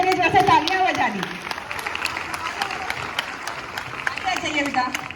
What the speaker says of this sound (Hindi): सब बच्चे एक बार इन बच्चों के लिए जो से तालियां बजा दी